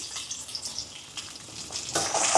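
Whole peeled garlic cloves fry in hot oil, a soft, close crackling sizzle that grows louder toward the end.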